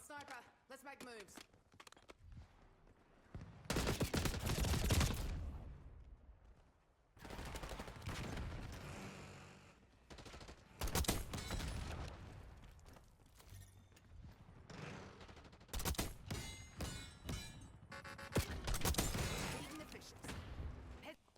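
Video game gunfire with sniper play: several bursts of loud, sharp shots and rapid volleys separated by quieter gaps, played back faintly.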